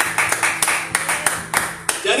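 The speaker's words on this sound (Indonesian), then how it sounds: "Ayo yang di studio beri tepuk tangan bagi Tuhan." A studio audience at a church broadcast claps in a sparse, rhythmic pattern of distinct sharp claps about every third of a second, fairly close, with a lingering voice or tone beneath.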